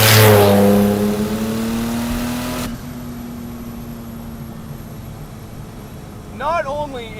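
Porsche Turbo making around 1000 wheel horsepower accelerating hard during a ride, a loud rising engine roar from inside the car that cuts off abruptly, then a quieter cabin hum with a voice starting near the end.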